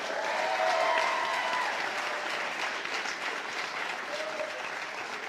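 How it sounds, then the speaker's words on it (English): Applause for all-conference student athletes at a fall athletic awards ceremony: a crowd claps steadily, fairly faint and a little distant, with brief murmurs of voices blending into the sustained clapping. "Let's give our all-conference student athletes a nice round of applause."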